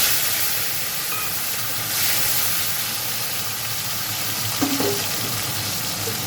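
Tomatoes dropped into hot oil tempered with whole cumin, a steady loud sizzle and hiss of frying that runs throughout, with a brief clatter of stirring near the end.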